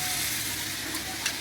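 Taro stolons cooking with shrimp in a pan, giving a steady close hiss of frying with a faint stir or clink near the end.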